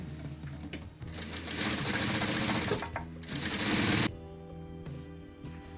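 A domestic sewing machine stitches seams on fabric pieces for a baby blanket in two loud, fast bursts of whirring, rattling needle action separated by short pauses, with nothing else heard.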